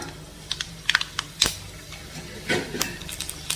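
Mustard seeds splutter in hot cooking oil, giving scattered sharp pops and crackles in quick irregular bursts with a faint background hiss.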